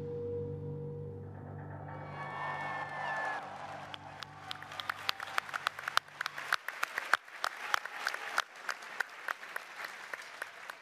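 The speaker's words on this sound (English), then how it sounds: "everyone started clapping" Audience applause breaking out at a Fallout 76 presentation, starting after a low music swell and growing into dense, sustained clapping from a large crowd.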